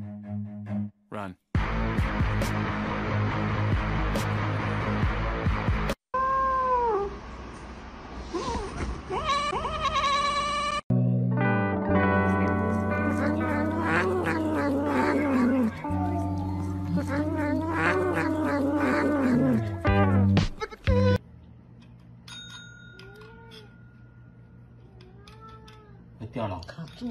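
A pet cat yowling and meowing loudly in long drawn-out calls that rise and fall, broken by brief gaps, with sounds of other animals and a voice heard at points.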